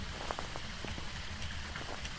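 Rain in the horror game Phasmophobia, a faint, steady patter of drops on a surface with scattered individual droplet taps and no voices.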